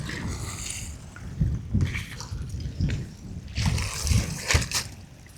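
Incoming tide water washes and splashes onto the shore at Bradwell, with irregular, close lapping surges and small splatters rising and falling.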